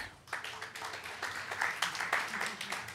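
Applause from a hacker-conference audience, a steady wash of many hands clapping at moderate distance that carries through the whole stretch.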